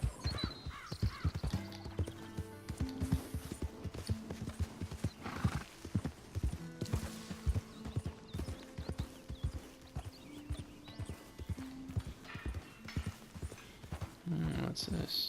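A horse in Red Dead Redemption 2 walks with clear clip-clop hoofbeats and whinnies loudly at moments, while someone speaks over the game sounds.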